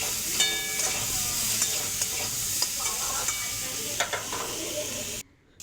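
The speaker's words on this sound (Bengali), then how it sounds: "এবার স্বাদ মতো নুন দিয়ে দেবো, একটু হলুদ গুঁড়ো দিয়ে দেবো, আবার একটু নাড়িয়ে চাড়িয়ে নেব।" Spices with salt and turmeric fry in a pan before pumpkin greens go in, a steady sizzle broken by repeated scraping stirs, close and fairly loud, cutting off abruptly near the end.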